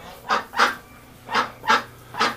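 A farm duck gives five honking quacks in two uneven bursts, loud and near against a quiet background, with no talk over them.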